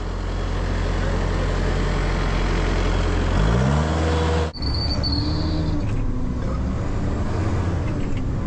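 A truck drives close and loud with a heavy, steady engine drone, then shifts down and rolls to a stop. A sharp clunk follows, and the engine settles into a quieter idle.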